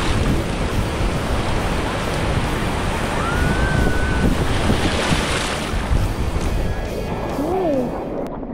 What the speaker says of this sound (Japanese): 高波が後ろから。